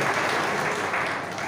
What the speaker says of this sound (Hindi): इनकी तरफ से जोरदार तालियां भाई